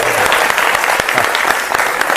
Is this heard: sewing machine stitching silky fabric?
no